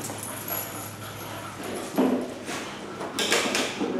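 Several dogs whimper and give short yips during a place-command training session, with brief rustling bursts and soft movement around them at moderate distance.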